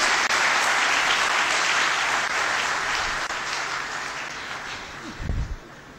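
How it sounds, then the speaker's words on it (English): Big round of applause from a conference audience at a CFO event in Lahore, a broad steady wash of clapping that slowly thins toward the end, with a brief low thump near the close. "Can we please give them a very big round of applause?"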